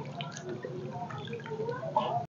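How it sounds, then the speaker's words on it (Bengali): Dried lote shutki fish being rinsed in water, with steady splashing, dripping and sloshing close by, under a faint murmur of voice. "শুটকি মাছগুলো ভালো করে জল দিয়ে বারবার করে ধুয়ে নিতে হবে"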